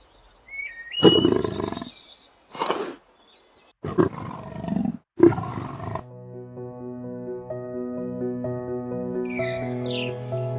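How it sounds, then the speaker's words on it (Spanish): A young male lion on the Serengeti gives several loud, deep roars in bursts, separated by short silences, followed by a sustained orchestral-sounding tonal backdrop with no talking. "Con un rugido tronador, el joven declaró su poder"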